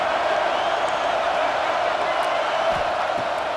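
A home crowd in EA Sports College Football 26 roars in a steady, loud, unbroken wash of stadium noise that holds at the same level throughout.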